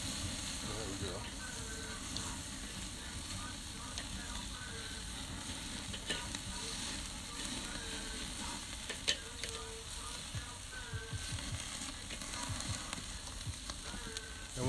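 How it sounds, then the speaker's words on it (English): Bacon frying on a grill makes a constant, dense sizzle and crackle that lasts throughout, with occasional pops and a voice talking faintly beneath. "And once I've got that bacon crisp, I can then move it over to my cool side and let it cook."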